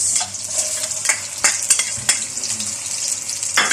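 Qeema sizzling and being sautéed in a hot pan, with steady frying hiss under repeated sharp scrapes and knocks of a spoon stirring against the metal.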